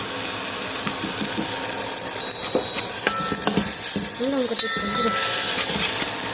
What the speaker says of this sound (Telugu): కలపండి కలపండి. కలుపుతూనే ఉండాలి.